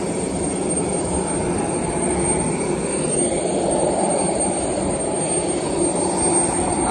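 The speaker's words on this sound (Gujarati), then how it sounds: "આ અમારું વિમાન." Airliner jet engine roar heard from a plane about to fly to Sydney, a steady loud broadband rumble that holds unbroken and close throughout, with no talking.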